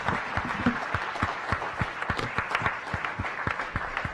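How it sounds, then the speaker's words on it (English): Audience applause at a science cafe talk on brain wiring, a steady wash of clapping with a few louder, rhythmic claps standing out near the front. "Let's give him one more round of applause"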